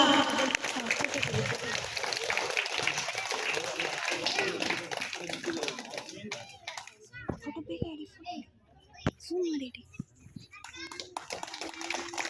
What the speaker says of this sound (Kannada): ಮಕ್ಕಳೆಲ್ಲ ಜೋರಾಗಿ ಚಪ್ಪಾಳೆ ತಟ್ಟದ ಅವನ್ನ ಕೂಡ ನಾವು ಗೌರವಿಸೋಣ